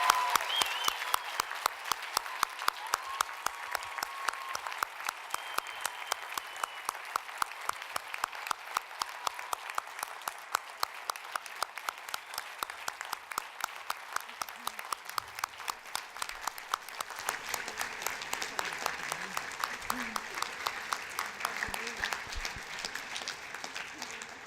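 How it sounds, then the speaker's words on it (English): A graduation ceremony audience gives sustained applause for the graduates, a dense, even wash of many hands clapping in a large hall, heard from some distance and lasting throughout with a slight shift in texture near the end. "give our graduates a hearty round of applause and say congratulations on your outstanding achievement so far"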